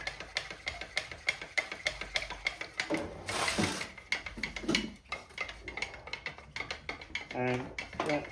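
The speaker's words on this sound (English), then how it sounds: "Give it a stir." Paint thinned with a splash of thinner being stirred in a cup, heard as a steady run of light, rhythmic scraping and clinking taps, fairly close, with a brief louder burst partway through and no talk over it.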